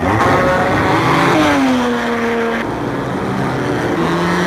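Racing cars at the 1986 Adelaide Grand Prix, loud high-revving engines whining and shifting pitch as they accelerate past, one continuous roar with overlapping engine tones.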